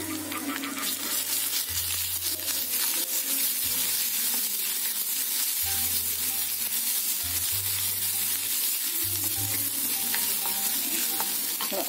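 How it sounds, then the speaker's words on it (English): Ginger garlic paste frying in a pan for misal pav, a loud continuous sizzle with stirring scrapes throughout, close up and unbroken, over a faint low background hum. "Add the ginger garlic paste."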